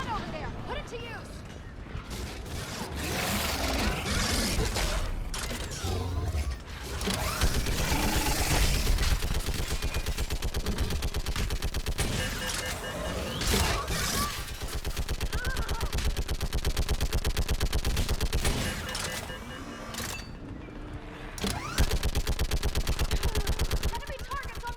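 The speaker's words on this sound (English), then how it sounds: "Get on that gun up there and do some damage!" Mounted gun firing in the video game Mass Effect 3, sustained loud bursts of automatic gunfire mixed with explosions and battle noise, with shouted voices over the chaos.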